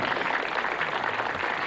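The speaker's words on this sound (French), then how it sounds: "On l'applaudit." Applause for a school principal arriving late at a celebration, a steady, moderately quiet patter of many hands clapping together without a break.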